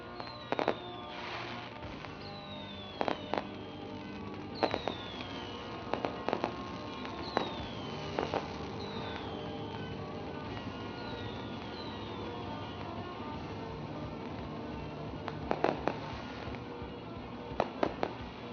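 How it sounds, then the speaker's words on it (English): Fireworks burst over a speedway after a sprint car race, in a series of sharp bangs and crackles, some with whistling launches, scattered irregularly over a steady background rumble. "providing the fireworks each and every Friday night here at the Speedway"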